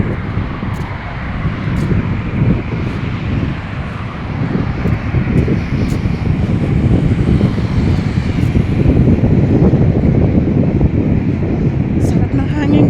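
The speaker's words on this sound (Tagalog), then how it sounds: "sarap na simoy ng hangin" Steady wind blows outdoors across grassy open ground, a continuous loud rumble and buffeting against the microphone that builds slightly and holds for the whole stretch, with no talk.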